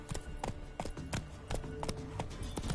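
Hooves of Roach, Geralt's horse in The Witcher 3 video game, clopping in an irregular, moderately close rhythm over a steady ambient game background with faint music.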